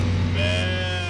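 Sheep in a flock bleating, a loud, drawn-out nasal bleat held for about a second, close by and clear, with no talking over it.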